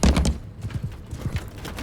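A horse's hooves clip-clop in the Mount & Blade II: Bannerlord video game, with a few heavy, close hoof strikes at first, then a lighter run of irregular thuds, heard alone without speech.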